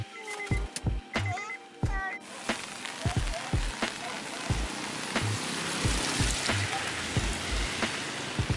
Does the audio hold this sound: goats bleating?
no